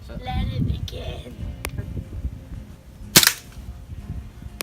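A 92-model BB pistol fires a 4.5mm BB in a backyard, one sharp, close snap heard partway through after someone speaks briefly beforehand.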